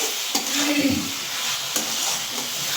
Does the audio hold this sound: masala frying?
yes